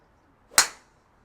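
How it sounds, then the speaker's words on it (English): A golf driver with a light shaft strikes a ball once, giving a single sharp, loud crack with a short ringing decay on an otherwise quiet practice range. "these are the first 3 shots I've ever hit with this club"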